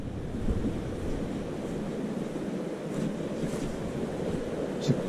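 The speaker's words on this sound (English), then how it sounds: "So this was definitely the water I was hearing." Steady rushing water fills the scene, a continuous broadband wash with no voices, like a stream flowing nearby under a small bridge in Cades Cove.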